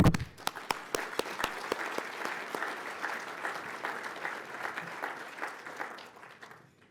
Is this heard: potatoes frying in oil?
no